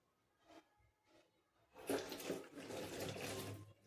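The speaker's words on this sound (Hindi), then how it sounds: "ये सिर्फ पानी पानी फेंक रही हूँ मैं" Water is poured off from a cooking mixture of tikhur, a faint trickle that swells into a steady, close splashing pour, with no talking.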